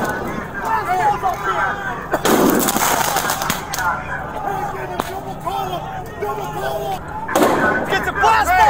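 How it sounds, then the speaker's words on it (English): Explosive firecrackers thrown by protesters at a police line, sharp loud blasts bursting through a noisy crowd with shouting voices throughout, several bangs standing out amid continuous commotion. "They throw explosive firecrackers wildly, creating an explosion that shakes the atmosphere."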